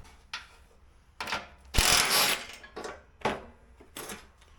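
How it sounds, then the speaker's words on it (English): Vice grips clamped on a stripped carriage bolt of a lawn mower, giving several short metallic ratcheting and scraping bursts with one longer, louder grinding twist in the middle, close up and with no talk. "I'm gonna have to get some vice grips on there"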